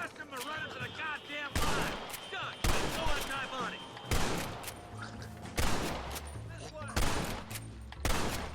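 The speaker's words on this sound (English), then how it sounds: "I'm shooting her rope like crazy." Rapid gunfire in the Western video game Red Dead Redemption, aimed at a rope: loud, sharp shots burst out in quick clusters roughly every second or so, with game ambience and a voice talking between them.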